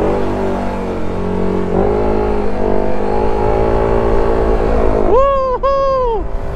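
Motorcycle engine idling and revving steadily, then two sharp rising revs near the end, close and loud.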